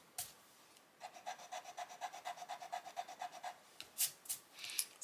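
Eraser scrubbing ink off paper for stamped cards, a fast run of about a dozen rhythmic rasping strokes, close and fairly quiet, followed by a few louder scuffs.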